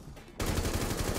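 Gunfire in Rainbow Six Siege erupts abruptly after a quiet start, a loud dense burst of rapid shots continuing without a break to the end.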